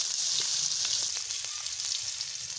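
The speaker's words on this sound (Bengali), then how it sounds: "ওই তেলতে অল্প তেল দিয়ে মশলাটা কষে নিন" Spice paste sizzles and crackles in a little oil left from frying eggs, a steady, close hiss with no talking.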